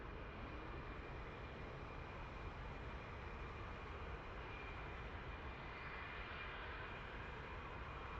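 Jet aircraft engine idling and rolling during taxi in DCS World, a Mirage 2000C, as a steady, loud broadband rumble with a faint high whine held evenly throughout, no voices.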